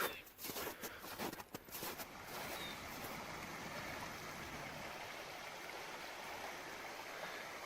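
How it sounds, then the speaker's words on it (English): A creek swollen with snow melt flows steadily in a continuous broad rush of water close by, preceded by a few seconds of handling or wind noise. "The creek is a-rolling. Look at all that water."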